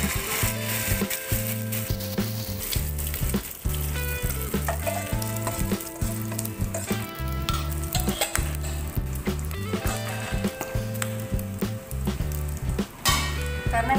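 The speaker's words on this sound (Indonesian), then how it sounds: "Ini cara mudah menggoreng kuyung hai dengan minyak yang sedikit ya" Fu yung hai seafood omelette frying in a little oil in a pan, a steady close sizzle with rhythmic scraping and stirring taps throughout and no talk.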